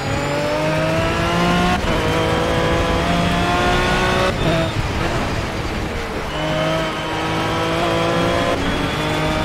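Aston Martin GT3 race car in the Project Cars racing game, its engine droning loudly and steadily with rising and falling revs through gear changes, close and continuous throughout.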